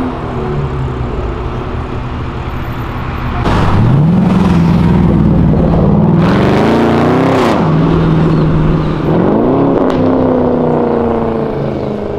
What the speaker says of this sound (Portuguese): Esse ronco desses três cilindros é muito bonito, né, velho?